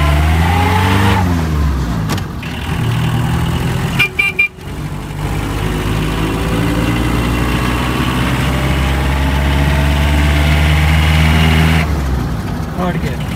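A 1994 Padmini Premier car's engine pulls in first gear while driving in Hyderabad, a loud, close, droning rumble that rises in pitch, with a brief clatter in the middle and a voice talking over it.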